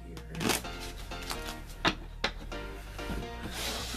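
A deck of playing cards is shuffled by hand during a magic trick, a few sharp riffling bursts and soft flicks scattered over a few seconds, close and fairly quiet.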